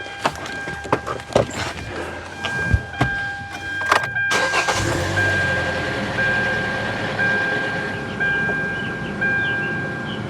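A car engine cranks and catches after an oil change, then settles into a steady idle with a faint clattery tick, close by, with scattered workshop clunks before the start and no talk.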